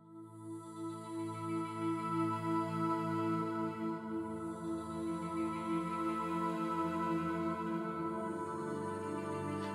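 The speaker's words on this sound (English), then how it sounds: "Next, I have layered the pads with a choir." Choir pad from the Augmented Voices preset in Arturia Analog Lab, layered under pads in a melodic techno breakdown: a sustained, dreamy chord of voices held steadily throughout, rich and atmospheric with no talking.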